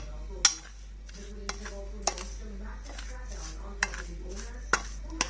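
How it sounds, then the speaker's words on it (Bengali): A spoon clinks sharply against a bowl about half a dozen times while lemon juice is mixed into a chili pickle spice mix, each tap isolated over a faint low hum. "এই জুস মশলার ভিতরে আমি লেবুর রস মিক্সড করব"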